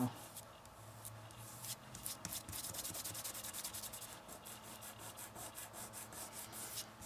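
Dried Fabri-Tac craft glue is rubbed off an item held in place, making soft, scratchy, repeated rubbing strokes that stay faint and close throughout.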